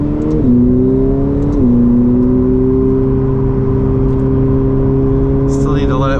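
Ferrari F8 Tributo engine droning steadily from inside the cabin, with two quick downshift blips stepping the pitch, then a faint rising whine near the end.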